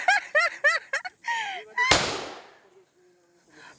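A handheld gun fires one sharp, loud shot that decays quickly, following a few bursts of voices.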